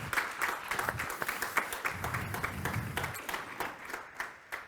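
An audience at the XDC 2023 X.Org developer conference applauds with scattered, moderately faint hand claps that continue steadily and thin out toward the end.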